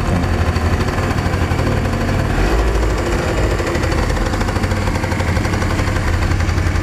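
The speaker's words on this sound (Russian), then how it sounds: "Вот для сравнения заведем рядом Honda Dio 28-ю со стартера. И у него будет слышно характерный звук стартера." A Honda Dio scooter's small engine, started with its starter motor, runs loudly and unevenly, a rapid knocking putter that stays close and constant throughout.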